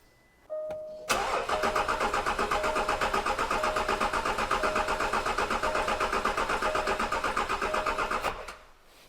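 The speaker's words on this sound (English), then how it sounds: "immobilize the engine so it doesn't start, give it a crank" A car engine, immobilized so it cannot start, cranks steadily for several seconds with a fast, even rhythmic chugging from the starter, never catching, then stops abruptly.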